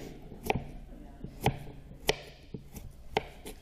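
A knife chops kohlrabi into sticks on a cutting board, sharp knocks landing about once a second in a steady rhythm, close and fairly quiet in a calm kitchen.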